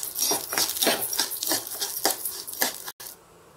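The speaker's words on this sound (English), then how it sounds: "add little ghee and moong dal. I'm going to fry this." Moong dal frying in ghee in a pan: a steady run of close, scraping stir strokes and light utensil clatter against the pan, repeating at an even rhythm for a few seconds before ending in quiet.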